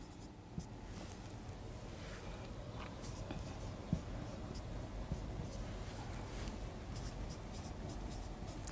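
Hand-writing of a chemistry structural formula for butane, a steady faint scratching of pen on paper running throughout with a few sharper taps, close and quiet with no voices.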